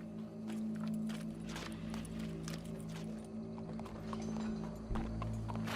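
Horse hooves clip-clop steadily through a Red Dead Redemption 2 game scene, a continuous close rhythm over a low droning background hum with no talk.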